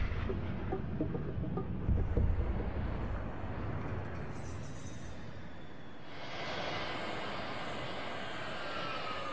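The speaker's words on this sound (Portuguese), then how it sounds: "Mike Zolensky, um cientista da NASA, envia jatos de grande altitude para peneirar partículas no céu." High-altitude jet aircraft flying overhead, a steady broadband engine roar that holds at a constant level throughout, with a brighter hissing wash in the later part.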